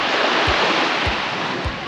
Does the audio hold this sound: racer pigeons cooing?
no